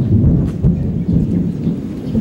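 Thunder from a rainy-season thunderstorm, a loud, deep, continuous rolling rumble filling the whole stretch with no talking.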